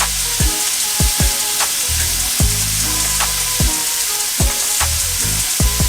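Bacon sizzles and fries in a pan for a uni carbonara, a steady loud crackle with repeated sharp clatters of a utensil stirring and scraping against the pan.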